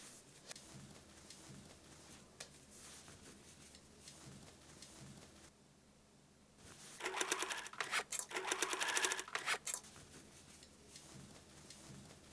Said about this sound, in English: Stitch the side strips to the main panel to make a single block.